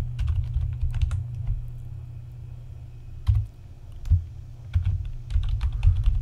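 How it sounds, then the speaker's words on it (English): Keystrokes on a computer keyboard while entering a terminal command during a Chrome install on Manjaro Linux, with irregular clusters of near, clicky taps and short pauses between bursts. "So I'm going to type export."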